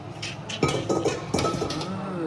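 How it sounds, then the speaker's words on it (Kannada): Dry pasta clatters into a metal pot, making a few bursts of rattling, clinking impacts against steady background noise, with no talking. "ಗೈಸ್ ಇವತ್ತು ಫೈನಲಿ ಪಾಸ್ತಾ ಹಾಕ್ತಾ ಇದೀನಿ"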